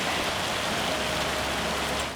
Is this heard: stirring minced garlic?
no